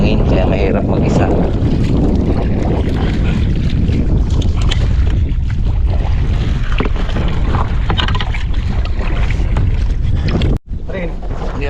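Strong wind buffets the microphone throughout while fishing for tilapia from a boat, a loud continuous low roar with water and boat movement, and people talking faintly underneath; it cuts out briefly near the end.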